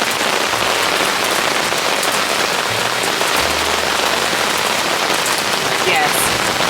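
Steady heavy rain drums on a tent during a storm at a campsite at Cunningham Falls, a dense, even hiss of drops with no pauses and no voices.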